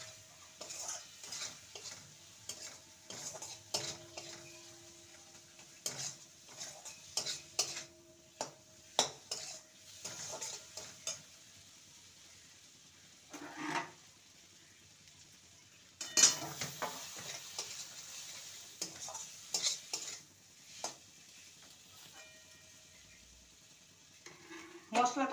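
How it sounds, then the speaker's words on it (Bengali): A spoon stirs spices with gram flour (besan) in a cooking pan for kundri curry, making repeated close scraping and clinking strokes of utensil on metal in irregular bursts over a soft sizzle. "এবার বেসন দিয়ে ভালো করে নেড়ে নেব"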